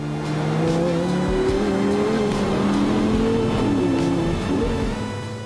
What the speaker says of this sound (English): the R8 GT's V10 motor puts out 412 kilowatts of power